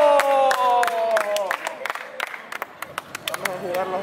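Crowd at a street rap battle clapping and cheering under a voice talking, with scattered sharp claps growing more spread out and sparse toward the end.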